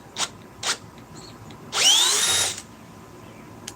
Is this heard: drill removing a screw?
yes